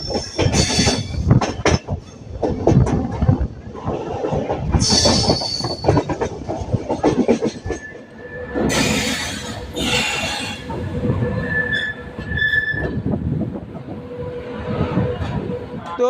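An Amrit Bharat Express passenger train crosses the Yamuna bridge, heard from aboard as a loud, continuous rumble with rhythmic clickety-clack of wheels and occasional high wheel squeals.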